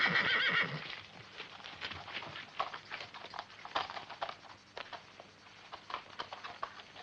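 Horses whinny loudly at the start of a French-dubbed western, then hooves clip-clop steadily as riders move off, with scattered neighs and hoofbeats continuing at moderate distance.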